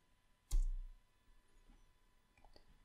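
A single sharp computer mouse click, close and clear against quiet background hiss, followed by a couple of faint ticks.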